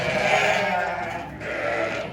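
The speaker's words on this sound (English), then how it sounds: "these are all our sheep. If you want, you can see all our baby lambs." Sheep and lambs on a farm bleating in a short close burst, overlapping calls with a brief pause before another bleat, no talk.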